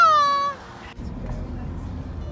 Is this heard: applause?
no